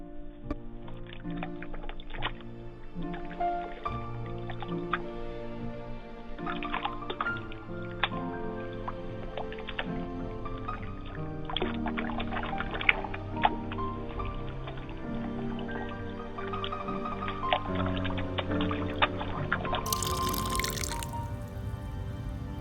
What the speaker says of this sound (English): I'm gonna pour some water down so you can see it come out the drain